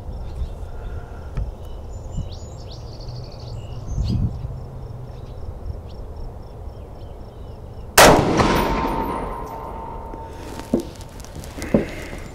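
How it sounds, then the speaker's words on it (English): Armalite Super Sass .308 rifle firing a single loud, sharp shot with a ringing tail, preceded by quiet outdoor ambience with faint insect chirps. "I'm going to shoot a group of three before I make any adjustments."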